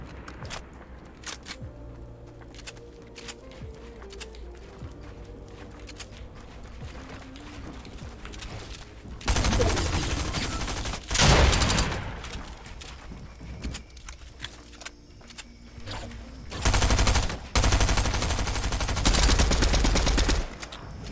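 Rapid bursts of submachine-gun fire in a video game, loud and dense in several stretches over a quieter background of footsteps and mechanical game noise, with no talk.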